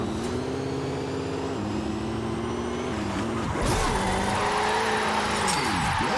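Car engine revving steadily in fifth gear, its pitch climbing and dropping in long sweeps as it gains speed. The drone stays loud and close throughout, with a brief dip and lurch midway before rising again.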